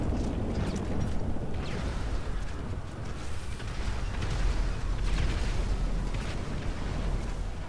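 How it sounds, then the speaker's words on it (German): Explosions in GTA V Online go off in a dense, continuous barrage, a loud rumbling roar with repeated bursts layered over one another for the whole stretch, with no voices. "Eine Wand aus Explosionen"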